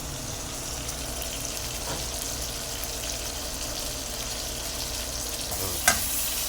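Onion, garlic and tomato sizzle in oil with milkfish for adobong bangus, a steady, even frying hiss running throughout with one brief sharp clink near the end.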